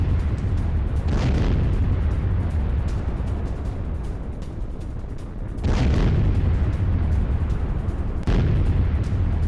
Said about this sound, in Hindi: राहुल वही विजुअल दिखा अब जो क्लस्टर बम का अटैक हुआ है।